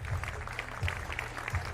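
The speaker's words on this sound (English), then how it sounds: "Getting the crowd involved there, the rhythmic clapping." Rhythmic clapping from the crowd at an athletics meet in Košice, slow evenly spaced beats of many hands about every 0.7 seconds, with low thumps and crowd noise under a commentator's voice.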